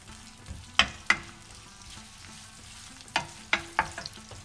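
Onions fry in olive oil in a home kitchen, a soft steady sizzle under a handful of sharp utensil clacks and scrapes from stirring, spaced irregularly and close by.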